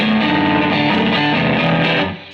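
An electric guitar played through a Snouse Blackbox Overdrive 2 pedal set to full distortion rings out as one loud, sustained, saturated chord that fades near the end.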